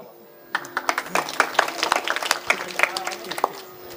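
An audience at a devotional discourse breaks into applause, scattered claps building into a moderate, uneven burst of many hands at a middling distance, with voices mixed in.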